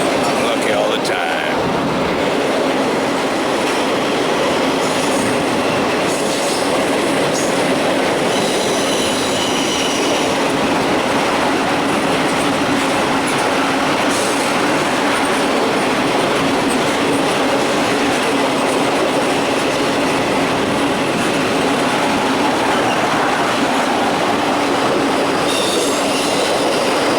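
A long freight train rolls past on railroad tracks, loud and close, with a constant roar of rolling wagons, rhythmic clacking over rail joints and high wheel squeal throughout.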